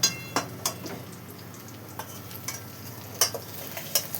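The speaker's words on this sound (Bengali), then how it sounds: "লাল লাল করে ভাজা হোক বন্ধুরা।" Tilapia fish fry in oil in a kadai, giving a low steady sizzle broken by sharp spatters and utensil taps at irregular intervals, close and quiet with no speech.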